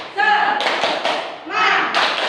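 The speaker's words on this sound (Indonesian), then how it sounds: "Kita mulai tepuk semangat seperti pertemuan sebelumnya ya." Schoolchildren in an Indonesian classroom perform a rhythmic clapping chant, voices rising together in short sung phrases while hands strike in quick patterned claps close by.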